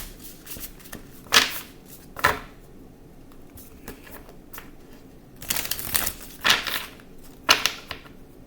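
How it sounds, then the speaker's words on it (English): A tarot deck is shuffled by hand in repeated papery riffle bursts, several quick rustling flurries separated by short pauses, close and clear. "Now I'm going to shuffle."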